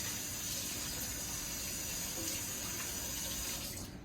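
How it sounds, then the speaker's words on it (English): Hands are washed under a running kitchen tap while coconut shrimp are prepared, a steady close hiss of flowing water that continues unbroken for a few seconds. "So you gonna have to wash your hand each time you do a batch."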